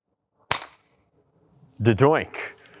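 A gas-powered Nerf MasterKey shotgun attachment fires a single sharp pop, close and loud, followed after a pause by a voice speaking.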